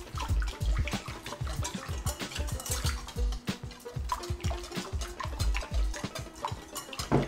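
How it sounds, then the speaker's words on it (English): Batter for Korean fried chicken wings made with water and vodka is whisked briskly in a bowl. Rapid, rhythmic wet slapping and clinking go on without a break, close and fairly loud, with no talking. "And give this a good whisk."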